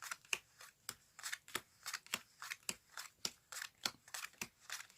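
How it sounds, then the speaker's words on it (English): Playing cards are dealt one by one onto a card mat into four piles, making crisp, rapid snapping flicks in an even rhythm, close and fairly quiet, with no voices. "You then take the cards that are all facing down and you just deal down 4 piles"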